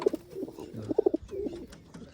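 A Siraji pigeon coos close by in a series of soft, throaty pulses, a few quick notes followed by a short rhythmic run, against a quiet background.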